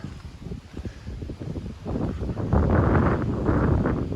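Strong wind in British Columbia gusting into the microphone, rumbling and buffeting, growing louder and rougher toward the end.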